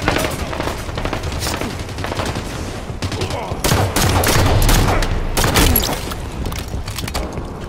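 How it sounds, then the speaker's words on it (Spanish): Gunfire from the video game Halo 5 Guardians in an arena doubles match, with rapid automatic bursts and heavy single shots over a steady in-game din. The fire grows denser and louder midway through and goes on without a break. "Están disparando en el horno."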